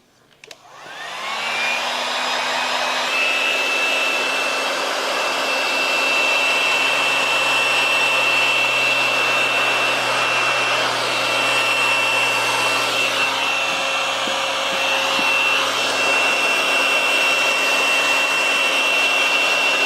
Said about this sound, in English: Now we're going to use our heat gun to shrink our fingers.